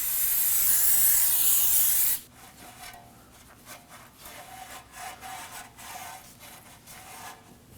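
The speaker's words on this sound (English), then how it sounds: "Now we're gonna use some brake parts cleaner and just wipe off all the debris." Brake parts cleaner blasts in a loud, continuous spray hiss on the parking brake area of a 2017-2024 Nissan Armada, then stops and gives way to quieter rubbing and wiping strokes as debris is cleaned off.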